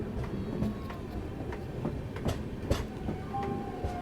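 The Dakshin Superfast train rolls into Narmadapuram railway station, with steady rumbling and clickety-clack of wheels over rail joints heard from inside the carriage, fairly quiet and continuous with scattered clanks.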